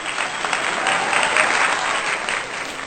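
Steady audience applause for a Hindi poet at a poetry recital, dense clapping filling the whole stretch at an even, moderately loud level with no voices.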